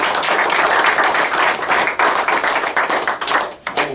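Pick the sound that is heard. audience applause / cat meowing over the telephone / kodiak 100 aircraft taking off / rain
audience applause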